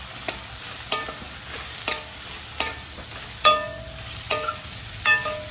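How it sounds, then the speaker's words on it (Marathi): Onions, tomatoes and green chillies sautéing in oil, with a soft steady sizzle broken by regular scraping stirs of a spoon against the pan, about one every second, close up and with no talking. "तेलामध्ये हे छान असं परतून घ्यायचं।"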